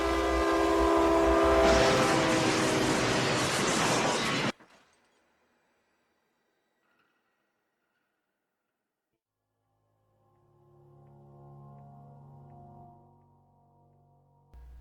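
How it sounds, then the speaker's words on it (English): A Roblox recreation of the Fox River Grove crash, a Metro train T-boning a bus at over 40 mph: a loud, dense burst of train noise with a sounding horn for about four seconds, then silence, then a lower rumbling return. "Metro 624 T-bones the bus at over 40 miles an hour."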